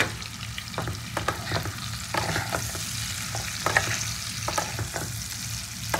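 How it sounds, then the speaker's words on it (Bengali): Fried chicken pakoras are tossed through masala in a pan for dhaba-style chilli chicken, a close crackling sizzle punctuated by frequent clattering stir strokes throughout. "এবার চিকেন পকোড়াগুলো দিয়ে দেবো এর মধ্যে। পকোড়াগুলোকে দিয়ে একটু নাড়াচাড়া করবো।"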